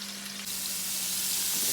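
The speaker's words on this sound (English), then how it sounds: "he's just going to start browning them" Deer steak sizzles loudly in a hot skillet as it browns, a steady close frying hiss that jumps up in intensity partway through and stays strong.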